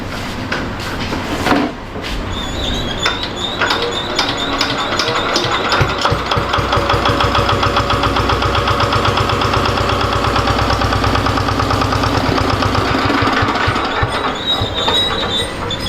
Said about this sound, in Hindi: चलिए जनरेटर को चालू करते हैं।